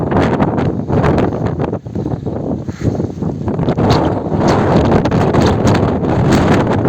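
Strong gusting storm wind roars and buffets against the microphone without letup, a loud, rough rushing that nearly drowns out everything else.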